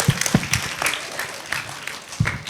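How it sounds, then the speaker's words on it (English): An audience applauds at a growth-mindset workshop, a short burst of loose, moderately loud clapping with uneven rhythm. "A big applause."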